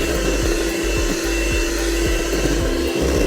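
Electric hand mixer whipping frosting made with gelatin and vanilla extract for an ice cream cake, a steady loud motor whir with rhythmic beater knocks, running alone without talk.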